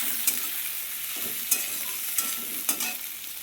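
Onion fries with turmeric in a wok, sending out a steady close sizzle broken by several sharp scraping strokes of a spatula at irregular intervals, with no talking.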